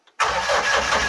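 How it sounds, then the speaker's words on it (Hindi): A car engine cranks and catches, settling into a steady, loud idle just after a short faint sound at the start. "तभी मैं गाड़ी स्टार्ट करूँगा।"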